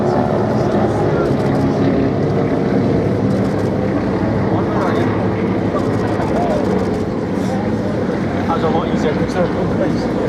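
A Douglas DC-3 propeller aircraft flies past at an air show. It makes a loud, continuous droning rumble that swells throughout, while a commentator talks over it.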